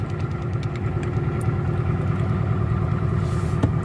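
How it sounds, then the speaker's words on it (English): A 2009-2014 Toyota Matrix engine idles steadily just after starting, a close, even low rumble with a faint rhythmic knock and no talk over it. "So the car started."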